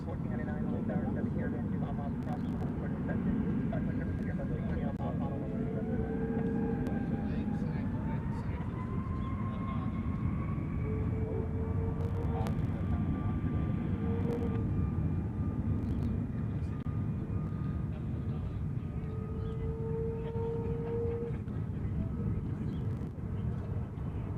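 An airliner departs Honolulu on an inter-island flight, a long steady jet roar with engine tones rising and whining as it climbs, while someone talks over it throughout.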